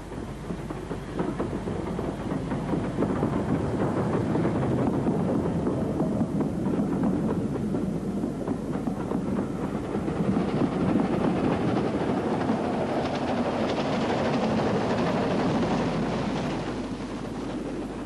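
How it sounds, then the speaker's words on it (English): A regular service train on a Highland Railway line rumbles steadily along with constant wind buffeting the microphone, a continuous loud mechanical roar without breaks. "This was a regular service train"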